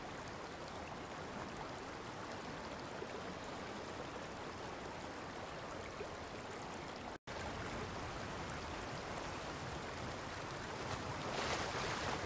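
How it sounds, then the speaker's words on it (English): Flowing river water in Fortnite, built with the UEFN river tool, gives a steady, dense rushing wash that holds constant throughout, broken only by one brief dropout, with no voices. "changing the audio intensity value would make the river sound louder or softer."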